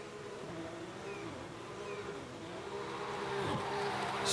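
A JDM car drifting in Forza Horizon 5, a sustained engine drone with shifting revs and a faint tire hiss, rising in loudness toward the end, no talking.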